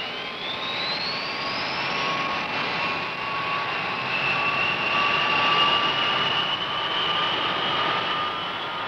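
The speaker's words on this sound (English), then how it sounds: "Everything ready, the B-52s taxi out and are soon on their way." B-52 bomber jet engines whine loudly as the planes taxi out, a continuous roar under high, slowly rising turbine tones, steady and fairly close throughout with no talking.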